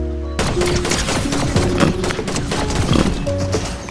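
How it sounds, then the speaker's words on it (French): Gunfire from an exotic pump-action shotgun in a video game's Blitz mode, a loud dense burst of repeated blasts running the full few seconds over steady game noise. "Le fusil à pompe exotique."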